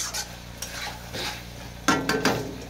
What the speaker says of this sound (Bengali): এঁচড়টাকে দিয়ে একইভাবে ভালো করে কষে নিতে হবে